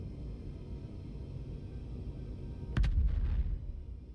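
A ship-mounted weapon fired in the space survival game Space Engineers booms once after a long low hum, a sharp heavy report followed by a brief rumbling tail that fades back into quiet ambience.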